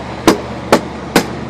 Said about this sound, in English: go around with the hammer, tighten, go around with the hammer